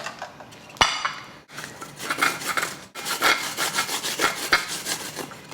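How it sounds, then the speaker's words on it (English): A fresh coconut half is scraped against a traditional coconut grater, making close, rough rasping strokes in quick repeated bursts with a couple of brief pauses and sharp knocks between them. "I am going to show you how it's done with the traditional tool"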